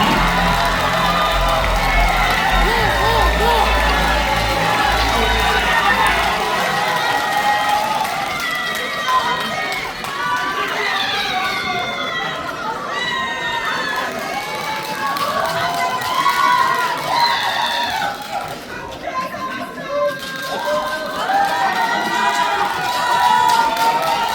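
At a party leadership rally in a convention hall, a crowd cheers and shouts to welcome a candidate, with voices calling out and chanting loudly in waves, close and sustained.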